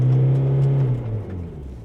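A 4x4 dual-cab ute's engine revs hard on a steep off-road climb, a loud, close, steady drone that holds high and then sags and drops lower as the vehicle loses momentum.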